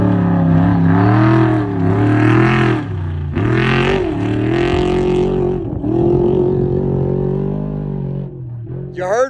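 A converted trophy truck from the Briggs Built Motorsports team rolls down pit road at the Vegas to Reno desert race, its engine revving and rising in pitch close by, easing off near the end.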